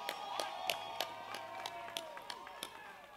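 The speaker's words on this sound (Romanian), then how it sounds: "vreau și mai multe gălăgie și mai multe aplauze pentru trupele care împărțim aceeași scenă" A crowd at a live rock band contest claps and cheers with sharp, irregular hand claps and a broad wash of noise, fairly close and steady throughout.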